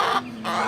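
Backyard hens clucking close by, a couple of short throaty bursts split by a brief quiet gap, heard alone without talk.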